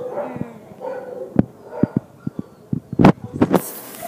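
A German Shepherd at an animal shelter gives a few short yips and barks amid kennel clatter and knocks, sharp intermittent sounds against a quiet background.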